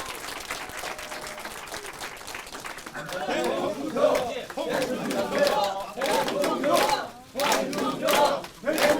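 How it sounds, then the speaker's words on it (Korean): A crowd at a political party event claps and cheers to welcome a candidate, Hong Joon-pyo, the noise swelling into loud shouting and applause with voices mixed in. "우리 박수로 맞이해 주십시오."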